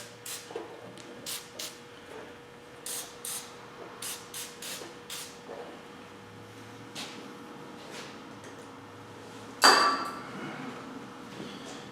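Short hissing bursts from an aerosol can of cleaner sprayed on a 2008 Harley-Davidson Rocker C gasket seat repeat in quick, uneven sprays, then one sharper, louder burst near the end; faint clinks in the background.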